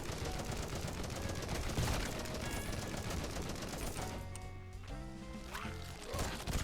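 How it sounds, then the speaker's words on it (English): Assault rifle gunfire in the zombie shooter game Zombieville USA 3D, a loud continuous stream of rapid shots with game effects layered over it and a brief tonal sound near the end, no talk. "let's try to use up this assault rifle's ammo first"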